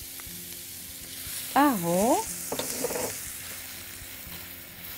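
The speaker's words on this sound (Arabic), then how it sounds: "هبتدي هنا أنزل بالبصل اللي عندي، البصل اللي أنا فرماه" Finely chopped onions frying in ghee in a pan for rice with eggplant and zucchini, a soft steady sizzle with stirring scrapes, while a voice speaks briefly over it.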